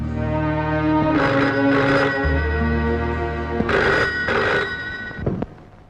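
An old landline telephone bell rings in two long bursts, loud and close, over a quiet room with no talking.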